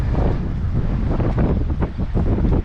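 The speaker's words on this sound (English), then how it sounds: "it's pretty windy out here, guys" Steady, loud wind buffets the microphone throughout, producing a continuous rumbling roar with no voices.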